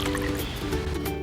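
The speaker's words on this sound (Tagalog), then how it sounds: "Haluin ito ng dahan-dahan at itapon ang maduming tubig." Dirty rinse water from washed rice being poured off, a steady liquid trickle and dribble with small drips, close and continuous for about a second without talk.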